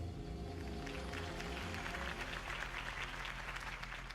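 Crowd applause rises after a campaign rally speech for Harvey Dent in Batman: The Telltale Series, steady dense clapping over a low synthetic music bed, with no voices.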